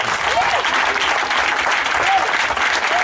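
Church congregation applauding loudly and continuously during a worship service, dense steady clapping filling the room with a few voices calling out over it.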